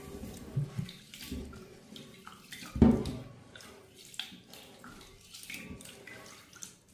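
Rice being rinsed with water in a bowl for a rice cooker in South Korea, quiet splashing and sloshing with scattered drips and one louder slosh, no voices.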